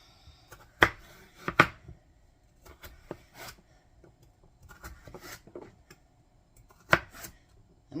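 A knife cuts sweet potatoes into chunks on a board, making a handful of sharp, separate chops and knocks with quiet gaps between them, close by and with no talking.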